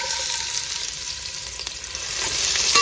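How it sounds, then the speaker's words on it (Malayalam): A chopped medium onion frying in hot oil for ghee rice gives a steady, close sizzle that swells slightly toward the end, with a few faint stirring clicks. "അങ്ങനെ ഓയില് ചൂടായി വന്നിട്ടുണ്ട്. അതിലേക്ക് 1 മീഡിയം സവോള കട്ട് ചെയ്തത്,"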